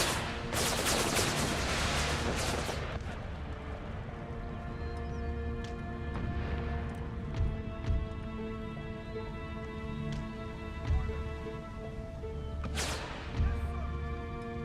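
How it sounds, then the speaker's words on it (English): Massed musket volleys and artillery fire from regiments in Empire: Total War, a dense continuous crackle of gunfire with repeated heavy booms rolling throughout. "All regiments open fire."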